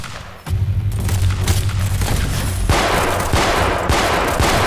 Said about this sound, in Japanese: 射撃開始